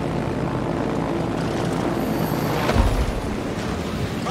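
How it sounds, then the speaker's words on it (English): In the naval battle game World of Warships, carrier aircraft drone steadily with a dense propeller roar. It is loud and constant for a few seconds with a brief low swell near the end and no talk. "Attack enemy aircraft."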